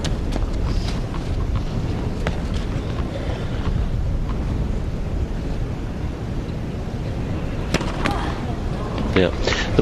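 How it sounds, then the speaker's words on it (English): Wind gusts at an outdoor tennis match, a steady rumbling blow buffeting the microphone throughout, loud and close, with a few faint sharp knocks and brief crowd or commentary sounds near the end. "The wind just picked up there."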